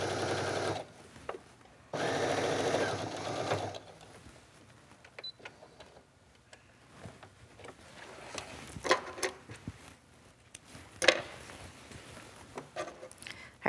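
Sewing machine top stitching a cuff onto a sleeve, running in a few steady bursts of mechanical whirring, loudest near the start, then quieter handling and clicks.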